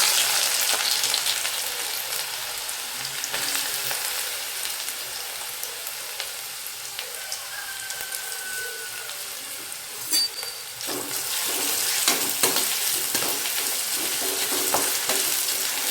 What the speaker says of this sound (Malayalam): നമുക്ക് ഇഞ്ചി വറുക്കാനായിട്ട് ഇഞ്ചി എല്ലാം കൂടെ അതായി ചൂടായ എണ്ണയിലോട്ട് തട്ടിയിടാം.